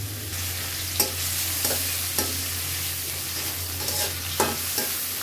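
Marinated chicken and frozen carrots stir-fry for a home-style chicken chow mein, hissing steadily in a hot pan with regular scraping clicks of the spatula about once a second, close and with no talking.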